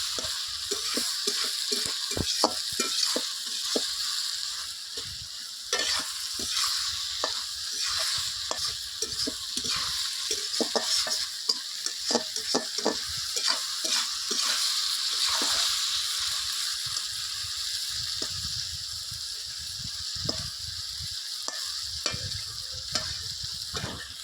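Okra and peanut mash being stirred and dry-fried in a pan, a steady close sizzle broken by frequent scraping strokes of the spoon throughout, with no talking.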